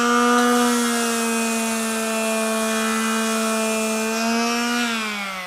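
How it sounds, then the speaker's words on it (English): Black & Decker KA400 third-sheet finishing sander running continuously, a steady high-pitched electric whine heard close and alone, dropping slightly in pitch near the end as it winds down. "This is a cracking little sander."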